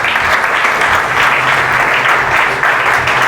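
A church congregation at a Marathi sermon applauds God, a loud, dense and steady roar of many hands clapping together, sustained without break and with no talking over it.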